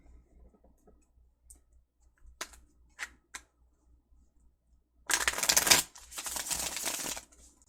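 A few soft clicks, then a quick riffle of tarot cards followed by a longer bridge shuffle, crisp and close, with no talking.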